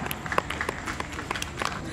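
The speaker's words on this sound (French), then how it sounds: "Applaudissez-vous très fort." An audience at an evening solidarity event for sickle cell disease claps in a dense, uneven patter of many hands, fairly close and steady throughout, with the crowd stirring beneath it.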